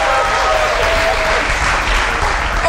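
Audience clapping, heard as a loud, dense, continuous wash of applause from a group, with faint voices underneath.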